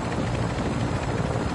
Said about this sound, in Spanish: Helicóptero.